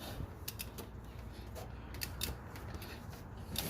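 The crankshaft of a Honda 3.5L V6 is turned by hand at the crank bolt during a timing belt and water pump job, giving faint, close clicks and creaks at an uneven pace.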